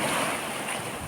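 Sea waves wash ashore at Odessa's Fontanka beach on a May morning, a brief steady rush of surf mixed with wind buffeting the microphone, no voices.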